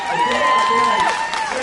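A ballpark crowd cheers and applauds as two honorees walk to the mound for a ceremonial first pitch, a steady, broad roar of voices with an announcer talking over it.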